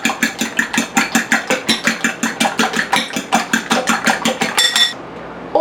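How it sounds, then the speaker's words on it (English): Eggs whisked briskly in a bowl, a fast, even series of about twenty-five close, sharp clattering strokes that stops abruptly near the end. "And now let's whisk the eggs."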